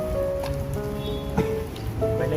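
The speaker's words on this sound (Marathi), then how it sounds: "पावसाच्या हलक्या सरी, ओल्या मातीचा सुगंध आणि झाडांच्या पानावर टिपकत असलेलं पाणी" Light monsoon rain drips and patters on forest leaves in a bird sanctuary near a highway, with a steady soft wash of drops and scattered louder taps over a faint tonal background hum.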